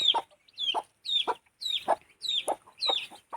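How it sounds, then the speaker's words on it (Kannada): Hens cluck with their chicks around them: a regular series of about six close, fairly quiet clucks with high peeping mixed in, and no talking. "ನೋಡಿ ಆ ಕೋಳಿ ಮ ಕೋಳಿದು ಮತ್ತು ಈ ಕೋಳಿದು ಎರಡು ಮರಿಗಳೆಲ್ಲ ಒಂದೊಂದು ತಾಯಿ ಜೊತೆಗೆಲ್ಲ ಆಗಿ ಹೋಗ್ತದೆ"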